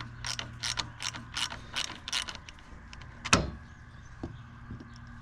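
A ratchet wrench clicks in rapid bursts while loosening the 13 mm positive terminal nut on an alternator during a replacement, with a sharp metallic clank partway through and softer handling noises afterward.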